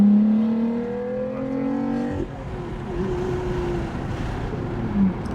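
A Lotus Evora sports car engine with an open exhaust revs and pulls, its tone climbing, then drops into a rougher roar that settles into a steady drone.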